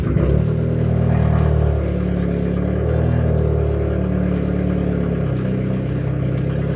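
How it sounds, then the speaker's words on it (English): An Audi A3 8P, with stuck intake manifold runner flaps, starts and settles into a loud, steady, rumbling idle heard up close, with no talking over it. "I'm going to start the car and see what happens."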